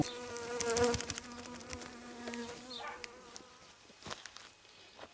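Honey bees buzz steadily around an alpine-style hive at an apiary during early spring inspection, a close, continuous insect drone with some faint handling noises and no talk.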